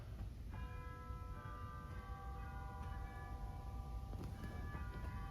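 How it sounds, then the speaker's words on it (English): A large 1922 Skinner / 1950 Möller pipe organ sounds its chime stop, sustained bell-like tones ringing and overlapping at a moderate distance in a reverberant room with no talking. "Huge! And there are chimes."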